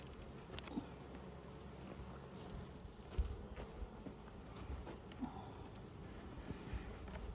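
Honey bees buzz softly and steadily around brood frames while three-frame nucleus hives are made up with mated queens, a faint continuous hum with a few louder passes.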